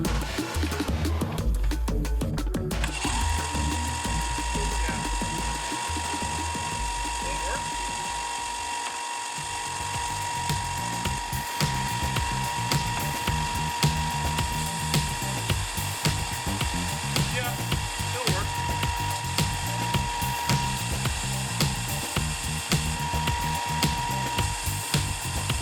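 A Ryobi desktop belt sander starts up and runs close by, a loud, steady mechanical whir with rapid rattling ticks that continues without a break.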